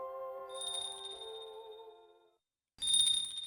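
A clear bell rings at a shrine doorway in the visual novel Utawarerumono: Mask of Truth, first as a sustained ringing tone that fades to silence, then as a second bright strike.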